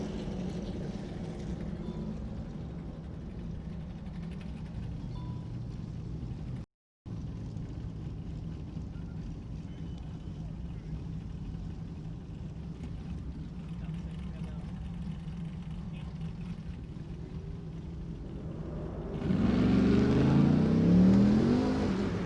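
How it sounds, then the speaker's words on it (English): An Ultra4 off-road race car with an 8-into-1 exhaust drones and revs steadily throughout, rising to a louder surge near the end, with a commentator talking over it. "Shannon Campbell letting that 8-into-1 exhaust eat."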